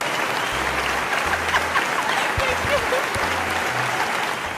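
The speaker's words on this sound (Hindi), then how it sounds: "खुद ही अपने लिए तालियां कर लें।" Studio audience applause on a TV quiz show, a dense, steady wash of clapping at full level for several seconds, with faint low hum underneath.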